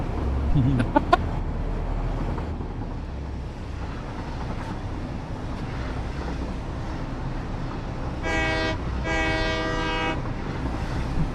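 A train rolls along in the game Satisfactory with a steady rumble, and two loud horn blasts with a stacked harmonic tone sound near the end. Short chirps come early on. No one speaks.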